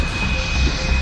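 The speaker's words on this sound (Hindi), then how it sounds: "एलओसी पर गरज रहे भारतीय फाइटर जेट।" Indian fighter jet engines roar loud and steady over the Line of Control, a dense, continuous aircraft rumble with a thin high whine running through it.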